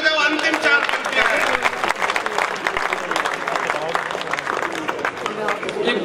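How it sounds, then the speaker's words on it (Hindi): An audience at a stage poetry event claps loudly on request, a dense sustained burst of applause filling the room, with a voice faintly audible underneath. "जोरदार ताली बजाओ"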